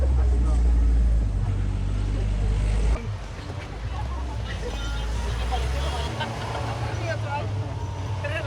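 Riding a bus in Bali, a steady low engine rumble fills the cabin, shifting in pitch and level partway through, while people talk over the drone.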